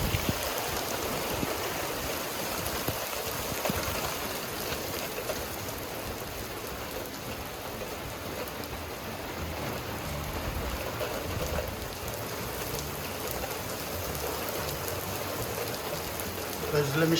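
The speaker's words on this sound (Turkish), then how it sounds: "Şimdi de yağmur yağmaya başladı." Steady, even rain hisses all the way through, a dense patter with no pauses and no voices over it.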